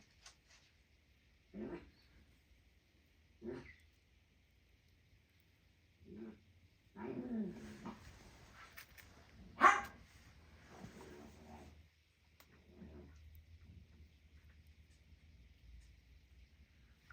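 Several dogs let out short, spaced barks and whimpers, faint at first and then more frequent, against a quiet background with a low hum.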